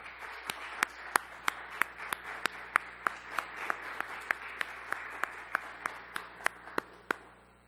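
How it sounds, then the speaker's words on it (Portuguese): Steady applause from a crowd, with a few sharp, louder claps standing out in a fairly even rhythm throughout. "Eu peço uma salva de palmas para a Olga"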